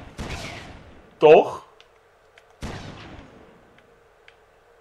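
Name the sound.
enemy shooting at the player in the video game Red Faction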